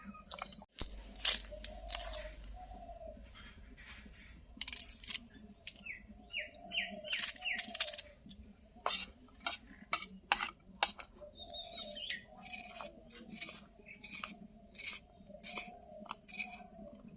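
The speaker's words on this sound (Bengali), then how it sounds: "এখন আমি মরিচ, পেঁয়াজ, আদা এগুলো আমি কাটাকাটি করে নিব।" A knife chops chili, onion and ginger on a board in quick, crisp, irregular cuts that come in bursts, close and clear, while birds chirp faintly in the background.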